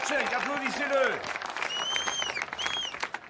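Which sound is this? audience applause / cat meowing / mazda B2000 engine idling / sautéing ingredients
audience applause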